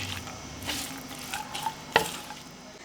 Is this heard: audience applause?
no